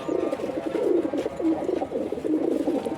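Pigeons coo steadily in a loft, soft repeated throaty calls layered over one another, fairly close with no talking.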